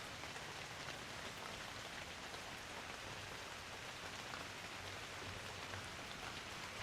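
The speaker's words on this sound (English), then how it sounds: "now it's been raining for the last few hours" Steady, soaking rain falls outside a barn after hours of rainfall, a dense, even hiss of countless drops close by with no voices.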